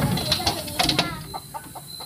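A chicken clucks in a quick run of short, choppy calls, fairly close, with some voices mixed in before the clucking settles into softer, scattered clucks.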